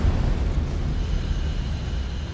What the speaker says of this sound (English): causing an explosion which blows off the tank lid and the ladder